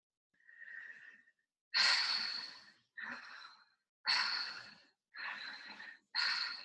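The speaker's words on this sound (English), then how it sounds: "So basically you breathe in and out of your mouth." Connected tantric breathing in and out through the mouth, a soft first breath followed by five loud, airy inhales and exhales in a steady rhythm with short gaps, close and with no talking.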